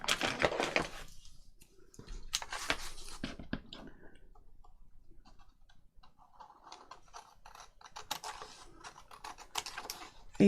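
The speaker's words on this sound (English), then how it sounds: "I'm just going to cut around here" Scissors cutting card for a junk journal give crisp snipping and crunching clicks in uneven bursts, close to the microphone, with quieter rustling of paper between cuts.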